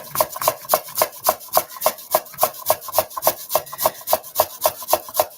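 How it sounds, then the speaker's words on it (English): Potatoes being grated by hand for latkes, a steady rhythmic rasping of strokes against a grater, close and fairly loud with no voices over it. "I'm not chopping. I'm grating."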